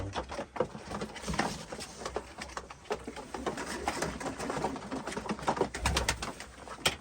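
Domestic pigeons in a coop at a Mardin bird auction, with soft repeated cooing and scattered wing flutters and scuffles, close and continuous without talk.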